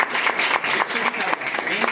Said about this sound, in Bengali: এবং কি বিশ্বজিৎ হালদারের জন্য আবার হাততালি